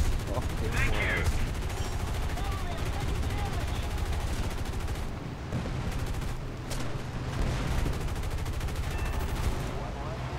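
Aircraft cannon fire from a plane in War Thunder, a dense, steady stream of rapid shots mixed with engine roar, continuous and fairly loud throughout with no talking.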